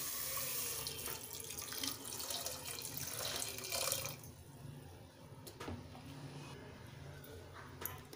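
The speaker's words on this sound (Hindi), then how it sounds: "और इसमें हम पानी डालेंगे।" Water pouring steadily into a pot of pumpkin pieces for boiling in a home kitchen, a close continuous splashing stream that eases after about four seconds into quieter trickling and drips.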